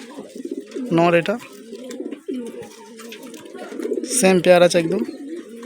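A pair of pigeons, including a rice-quality male of sweet kalishira colouring, coo close by in repeated throaty bursts while someone talks over them.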